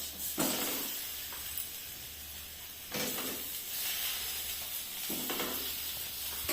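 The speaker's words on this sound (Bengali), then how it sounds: "এবার আলুগুলো ভালো করে ভেজে নিচ্ছেন মশলাতে।" Potatoes frying in a pan with spices, green chili and chopped ginger for potato chops, a soft steady sizzle with a few stirring swells, fairly quiet, no talking.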